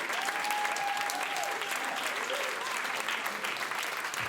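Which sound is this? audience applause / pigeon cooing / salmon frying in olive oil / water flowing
audience applause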